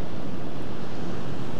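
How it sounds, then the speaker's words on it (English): Ocean waves and incoming tide wash onto rocks by the shore at sunset, a loud continuous roar of churning surf with no break and no voices. "I'm just waiting for the tide just to come onto the rocks in front of me now."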